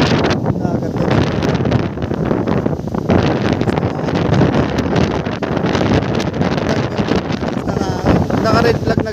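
Strong sea wind on a Boracay beach under red-flag conditions buffets the microphone with constant loud rumbling gusts, while a voice talks faintly underneath.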